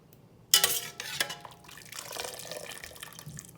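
Blanched garlic mustard greens are dropped into an ice water bath in a home kitchen, giving a sudden splash followed by softer sloshing and trickling water, with no talking.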